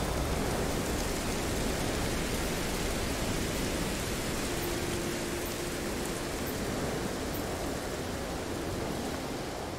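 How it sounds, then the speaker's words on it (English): Steady rain and storm noise on a planet in the video game No Man's Sky, a dense continuous hiss of falling rain with a faint low tone partway through, even and unbroken throughout. "Why is it every time I land there's a storm?"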